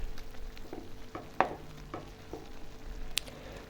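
Noodles and winter vegetables with prawns being stirred in a pan, heard as a quiet low sizzle with several soft spaced scrapes and taps of the utensil, one sharper knock among them.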